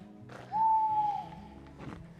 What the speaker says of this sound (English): I just heard an owl hooting